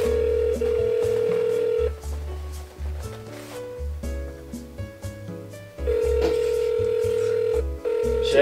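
Phone ringback tone on an outgoing call: repeated long steady electronic beeps separated by short pauses, loud and close, with faint voices in the background.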